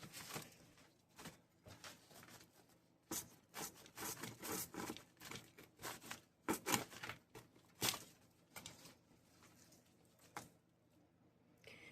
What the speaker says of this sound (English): let's chop off a piece and check it out